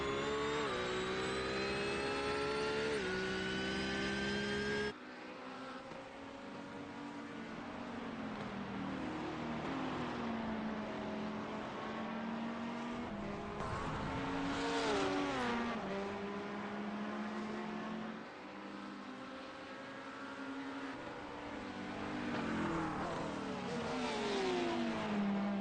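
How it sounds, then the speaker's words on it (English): A GT3 race car accelerates hard at Watkins Glen, its engine note climbing through gear after gear in rising sweeps with brief drops at shifts, loud and continuous without talk. "Austin Hunt really putting the power down here, trying to catch"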